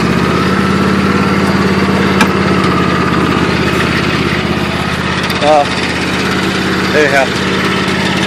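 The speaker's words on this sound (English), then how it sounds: "that's my seat rattling." A homemade lawn mower engine idles in a loud, steady drone while its seat rattles along with the vibration; a voice speaks briefly over the noise.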